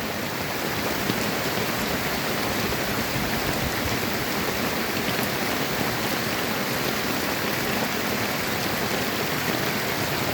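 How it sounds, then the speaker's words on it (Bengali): Heavy downpour in Bangladesh, a dense, continuous hiss of rain pouring down on surfaces, steady and loud with no letup. "মুষলধারে বৃষ্টি হচ্ছে"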